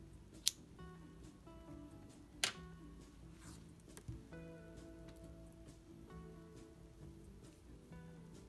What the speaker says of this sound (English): So I'm gonna go ahead and cut my yarn.